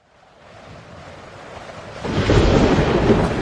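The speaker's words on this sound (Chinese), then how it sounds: "又打雷了" Thunder rumbles low and deep, starting faint and swelling into a loud, sustained roll that stays strong to the end, with no voices.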